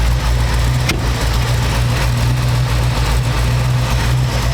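A 1932 Ford three-window hot-rod coupe with a 350 V8 tri-power engine idles steadily nearby, a loud, even low rumble with no voices.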